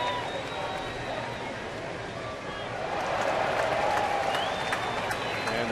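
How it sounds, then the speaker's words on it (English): Baseball stadium crowd at a Detroit at Kansas City game reacting to a replay of a leaping catch against the right-field wall, a steady broad roar with cheering and scattered clapping that swells toward the end. "crowd reacting again as they see the replay up on Crown Vision"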